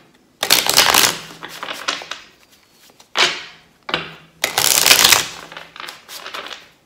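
A deck of 44 oracle cards is shuffled by hand in several loud, crisp bursts of riffling and sliding card noise, separated by short pauses, with no talking.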